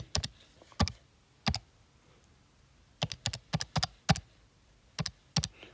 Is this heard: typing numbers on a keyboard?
yes